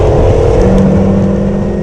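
A T56-swapped Caprice race car at Buttonwillow track under hard throttle mid-corner, its engine a loud, steady, close-miked drone with a strong low rumble and sustained roar throughout.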